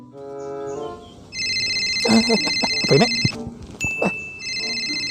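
In a Banjarmasin comedy sketch, a telephone rings with a high, steady electronic tone in repeated bursts, and a voice speaks briefly between the rings.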